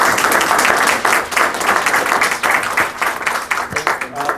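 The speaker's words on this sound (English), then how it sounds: "So a round of applause for our panel," Audience applause for a panel at a chamber of commerce referendum forum, a room of people clapping steadily and loudly for several seconds, with a few voices faintly mixed in.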